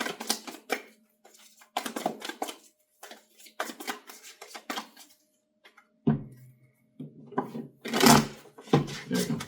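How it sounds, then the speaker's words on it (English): A deck of tarot cards is shuffled up close in several bursts of crisp, riffling card flicks, separated by short pauses, with heavier shuffling thumps near the end. "Give it one more shuffle."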